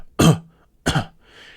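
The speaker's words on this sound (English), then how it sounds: "So if I cough with a fairly dark sound" A person demonstrates a dark-toned vocal cough twice, two short, loud, close coughs with a gap between them and quiet breathing afterward.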